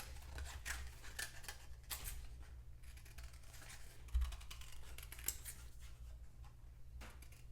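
Scissors snip through paper while a porcupine shadow puppet is being cut out; the cuts are quiet, close and scattered, arriving as irregular crisp clips over a hushed room.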